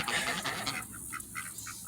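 Ducks and geese honk outdoors in the rain. The first half is washed with noise, then several short, quacky honks follow in a loose series, moderately close and fairly quiet.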